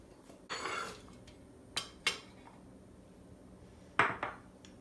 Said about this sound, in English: Let's mix this, give it a stir, mix all the spices to it.